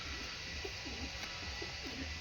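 A pigeon coos softly in a repeated rolling pattern, several short low calls in a row, faint and close against a steady background hiss, no talking.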